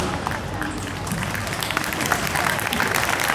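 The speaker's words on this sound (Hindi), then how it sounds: "आप लोगों ने ताली बजाना शुरू कर दिया।" A crowd claps steadily at a Republic Day school program, a dense, continuous round of applause from many hands, loud and close, holding evenly for several seconds.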